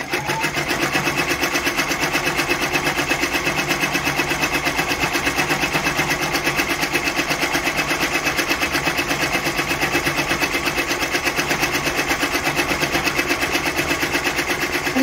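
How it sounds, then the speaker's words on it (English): Brother PR1055X ten-needle embroidery machine stitching a design onto a premade bib in a hoop, a fast, steady, loud mechanical rattle of needle strokes running continuously and alone throughout. "you'll see that it's stitching upside down now"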